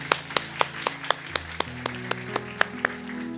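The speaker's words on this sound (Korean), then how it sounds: "우리 하나님께 감사의 박수를 드리겠습니다." Rhythmic, evenly spaced clapping from a church congregation during a Korean Sunday worship service, steady beats in unison, moderately loud in a reverberant room.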